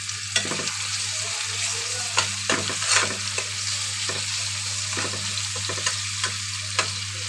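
Whole bay leaves, cardamom, cinnamon, cloves and peppercorns frying in oil for a homestyle chicken curry, a steady close sizzle broken by repeated scraping strokes of a spatula stirring the pan.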